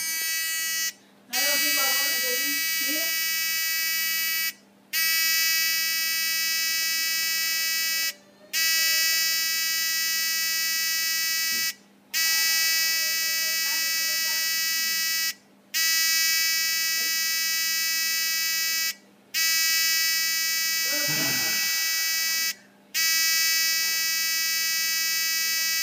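A buzzer on an Arduino wireless car alarm sounds a loud, continuous high-pitched tone while its PIR sensor calibrates. The tone cuts out briefly about every 3.5 seconds, with someone speaking faintly beneath it.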